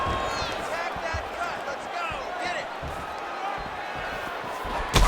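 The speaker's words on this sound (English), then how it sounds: "Well, the crowd continues to react with every passing land" Crowd noise in the UFC 5 fighting game, a continuous murmur and swell of spectators reacting to strikes, with scattered thuds of impacts and commentary-like talk over it.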